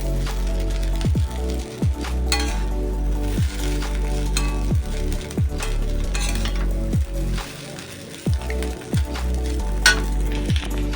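Chowmein with fried egg and potato being stir-fried in a pan, with a continuous loud sizzle and regular scraping strokes of a spatula against the pan, nearby and without talk.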